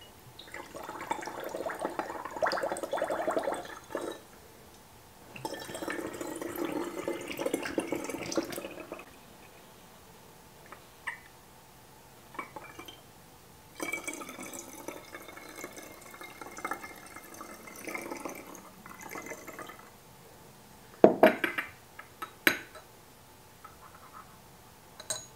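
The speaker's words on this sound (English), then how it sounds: "And we are going to top that up with water." Tap water runs into a container while a homemade cleaning product is mixed, coming in two long filling pours with quieter gaps and a few sharper clinks and splashes near the end.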